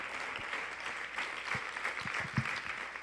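A church congregation applauds together, a steady wash of clapping throughout with a few sharper claps standing out near the end.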